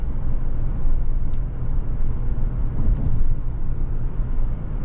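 A 2025 Chevy Tahoe LT with a Duramax diesel engine accelerates, giving a steady low rumble and road roar from inside the cabin, loud and continuous.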